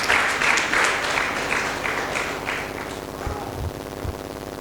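A church congregation claps along during a Sunday sermon service, a dense, steady wash of many hands that slowly thins and softens toward the end, with a few low thumps underneath.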